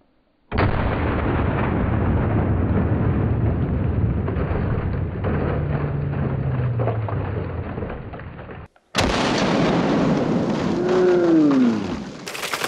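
.50 caliber blue tip incendiary round fired into a row of ice-filled buckets: a loud sustained blast and roar, a brief gap, then a second sharp burst with ringing, whistling debris trailing off.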